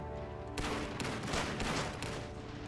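Bursts of rapid gunfire and machine-gun fusillades rattle loudly and continuously in a battle in the video game Iron Harvest, with no talk over them.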